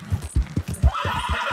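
A horse in Red Dead Redemption II trots with rhythmic clip-clop hoofbeats, then gives a short whinny, close and fairly loud with no talk.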